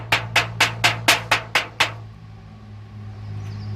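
Eight quick, evenly spaced metallic taps from the side of a hammer striking a thin aluminum termite shield, over a steady low hum, then the hum continues alone.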